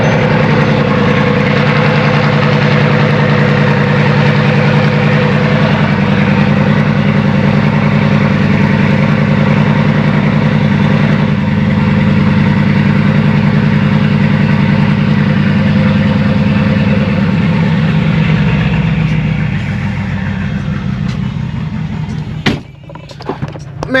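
A car engine idling loudly and roughly after a cold start, a continuous low rumble with steady vibration that holds for about twenty seconds before fading slightly, followed by a few handling knocks.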